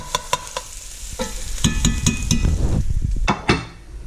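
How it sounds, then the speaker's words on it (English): Chili with home-jarred meat sautéing in a pan on turned-down heat: a close crackling sizzle broken by sharp spoon scrapes and clinks against the pan, alone without speech. "I really turned this down a lot because it was sauteing too fast."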